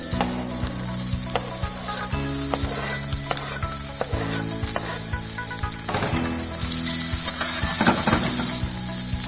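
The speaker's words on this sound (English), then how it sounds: "Just saute for a while. Add chopped vegetables." Chopped vegetables sauté in a hot pan with chopped garlic, a continuous bright sizzle punctuated by repeated clinks and scrapes of stirring against the pan, close and without talk.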